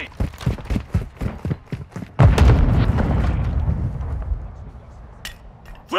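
Grenade blast in Call of Duty: Modern Warfare II, a loud heavy boom that bursts in after a run of quick footsteps and rolls into a long, low rumbling decay.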